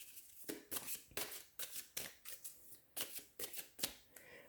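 A deck of cards is shuffled with a quick series of sharp riffling bursts in an uneven rhythm, close and fairly quiet, with no talking.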